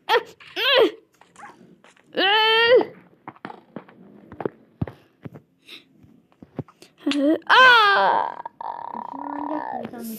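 Several bursts of Minecraft dog barks and whining yelps, interspersed with clicks and short noises, with a longer tonal whine near the end.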